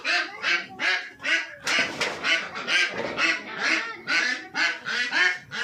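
Ducks on a farm call in the morning, a dense run of loud, nasal honking quacks that repeat in a steady rhythm from close by, with no talk.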